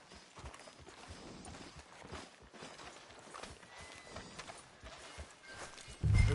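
Horse hooves clip-clop at a walking pace in the Red Dead Redemption 2 video game, a soft, rhythmic beat of steps with a sudden loud thump at the very end.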